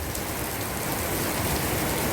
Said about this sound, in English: we could hear the sound of rain